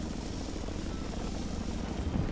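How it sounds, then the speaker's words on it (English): Helicopter in the Batman: Arkham Asylum video game, a steady, loud rotor and engine drone that holds evenly throughout, dense low throb under broad hissing noise with no speech. "More helicopters?"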